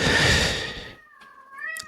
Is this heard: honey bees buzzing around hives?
no